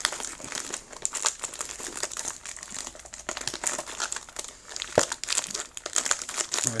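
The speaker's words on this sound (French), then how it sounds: "on attaque le déballage de la display" Plastic wrap crinkling and crumpling as a Pokémon Lost Origin booster display box is unwrapped, close and continuous with sharp crackles throughout.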